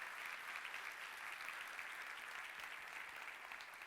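A church congregation claps together in sustained, even applause, heard as a dense crowd sound that carries at a moderate distance with no voices over it.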